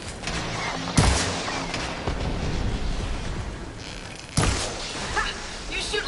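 Gunfire in Horizon Forbidden West, with two sharp close shots standing out over a continuous rumbling battle din of blasts and crackle.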